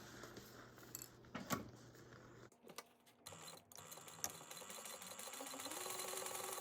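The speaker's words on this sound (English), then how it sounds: "we're going to sew this at a 1/2 inch seam allowance" A sewing machine stitches a tote bag seam at a half-inch allowance, a faint run of motor hum with light clicks and rattles, near and without talk.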